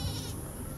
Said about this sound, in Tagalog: At ito yung kambing ko,